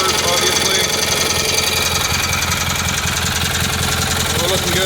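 A Kohler Magnum M18 engine on a Cub Cadet 1882 idles loudly and close by, with a steady rhythmic chugging and mechanical clatter throughout and someone talking over it.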